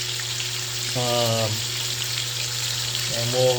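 Steak frying in a pan as it finishes searing toward medium rare, a steady sizzle running throughout beneath a voice that speaks briefly in two short bursts.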